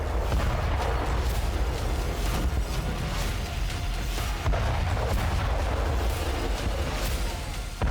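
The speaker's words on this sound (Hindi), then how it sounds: "सेना ने toss 1A multiple rocket launcher से यूक्रेनी चौकियों को ध्वस्त कर दिया" A Russian army TOS-1A multiple rocket launcher fires, giving a dense, continuous rumble of distant booms and blasts with rapid bursts layered throughout.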